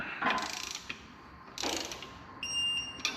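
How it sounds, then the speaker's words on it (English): Torque wrench clicking on an intake manifold bolt of a 2013-2014 Ford F-150 3.5 EcoBoost engine: two short ratcheting bursts, then a faint high electronic beep, close and quiet. "we're going to start on the inboard bolt first, torquing it."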